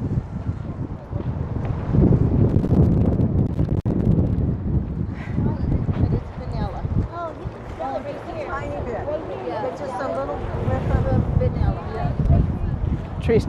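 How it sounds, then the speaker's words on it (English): Gusty wind buffets the microphone in a steady roar at China Cove on Donner Lake, with people talking over it for much of the time. "it's really kind of windy right now"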